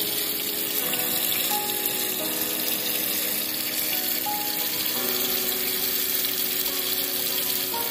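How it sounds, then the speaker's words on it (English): Water runs steadily into a Cambro container holding a turkey set to thaw, a continuous close rushing and splashing that stays even in loudness throughout. "We fill this thing up with water"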